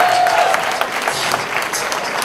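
Audience applause at a Jamaica Emancipendence celebration, a steady, moderately loud patter of many hands that runs on evenly with no voices over it.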